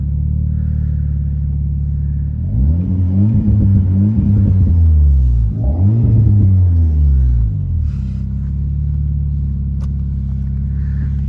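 An Alpine car with a custom non-original exhaust revs loudly up close, deep rumbling idle swelling into two rising throttle blips before settling back to a steady burble.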